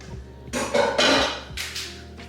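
Rinsed pinto beans tumble into a cooking pot in a few clattering pours, producing bright, rattling bursts against the pot's metal, close and loud, with no one talking.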